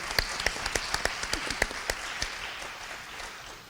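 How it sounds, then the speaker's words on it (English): An audience at a school trustee finalist forum gives the finalists a round of applause. Sharp, evenly spaced claps stand out over a softer bed of crowd clapping that gradually thins toward the end. "Let's give them a round of applause."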